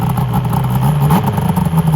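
A Yamaha Venture 600 triple engine, revived after nine years of sitting, runs with a steady, close, loud mechanical drone and slight clatter, alone without talk.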